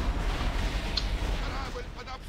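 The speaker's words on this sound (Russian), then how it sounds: "Корабль под обстрелом!" Cannons fire on a ship in a video game, giving a dense rumbling barrage of low booms and crackling blasts. Voices can be heard over the noise.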